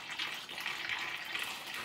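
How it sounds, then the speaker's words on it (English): Water draining out of an automatic washing machine's drain, a steady hissing splash and trickle, fairly faint but continuous, with no talking. "I will show you now that there's that water draining from its water drain"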